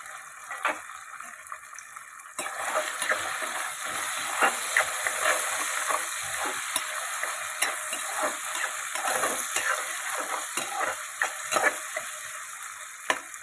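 Sliced onion going into hot oil for spicy tomato rice, a steady close sizzle that jumps louder as the pieces drop in, with scattered crackles and spatula scrapes running throughout.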